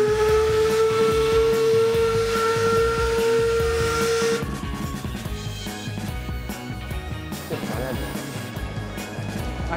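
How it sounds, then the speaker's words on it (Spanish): A steam engine lets out a loud sustained whistle for about four seconds, then keeps up a steady rumbling hiss of steam and machinery, with faint voices underneath. "El motor a vapor ahí."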